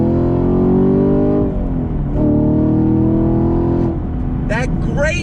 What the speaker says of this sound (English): That great V8 sound.